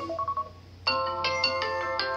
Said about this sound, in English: You hear these ringtones, guys? Yeah, it's fucking loud, dude.